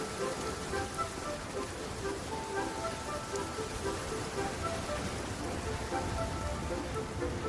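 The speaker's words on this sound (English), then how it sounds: "Rain." Rain falling in Genshin Impact, a dense, even hiss of drops that holds steady throughout at moderate loudness, with faint tonal background music underneath and no clear talking.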